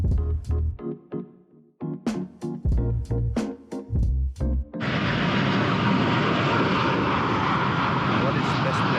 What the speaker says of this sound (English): So my plan was to capture landing and taking off airplanes